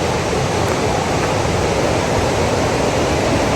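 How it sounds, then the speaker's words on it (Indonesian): A fairly large river, the Sungai Lusang, rushes past in a steady, loud broadband roar of flowing water that stays unbroken from start to finish, with no voices over it. "Sungai lumayan besar sih sekarang."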